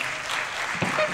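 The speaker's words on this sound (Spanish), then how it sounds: "Fuerte el aplauso para él" An audience applauding the guitarist and founder of the band at a live recital, a brief steady patch of crowd clapping with a faint voice or note near the end.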